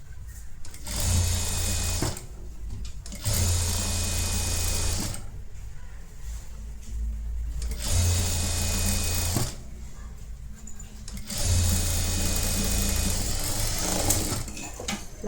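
Sewing machine stitching a netted blouse, running in three long bursts of steady mechanical whirring with short pauses between, close and fairly loud with no talk.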